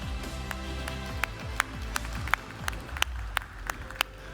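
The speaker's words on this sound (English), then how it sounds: "let's give them a round of applause" Audience applause at a hydrogen sustainability stage event, a few scattered, separate claps from a small sparse crowd, fairly faint over a low background hum.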